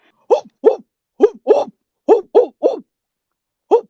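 A person imitates a small dog's bark with their voice, giving eight short, yappy barks in quick uneven bursts, fairly close and loud, with a pause before the last one.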